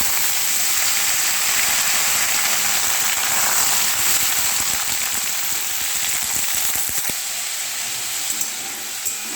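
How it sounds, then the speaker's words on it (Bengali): Kohlrabi pieces fry in a pan with bay leaf, giving a steady, dense sizzle that runs unbroken and close throughout, with no voices. "দেখো ওলকপি ফ্রাই করছি, ফ্রাই হলে মশলা দেবো।"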